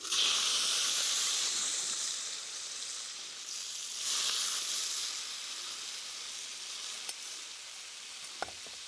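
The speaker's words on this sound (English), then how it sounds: "now these are frying straight away rather than soaking up that oil" Mushrooms sizzle steadily in hot oil, a continuous close frying hiss that eases slightly midway and swells again, with no talking.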